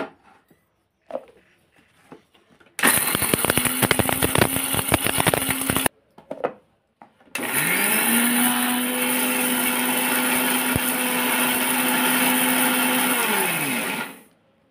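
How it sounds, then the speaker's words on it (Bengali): A kitchen mixer grinder whirs loudly as it grinds dried raw mango into powder, running in two bursts separated by short pauses with faint handling clatter, the second run long and steady before spinning down. "মিক্সিতে ঘুরিয়ে নিয়েছি"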